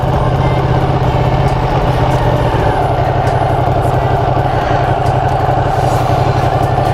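A Ducati 959 motorcycle engine roars steadily and loud, close by, its dense droning exhaust note holding at high revs with a slight shift in pitch partway through and no clear pause.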